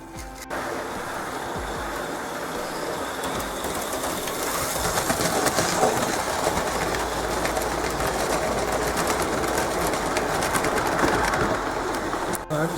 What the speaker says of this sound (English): It doesn't seem to have any problem at all with this rather heavy train.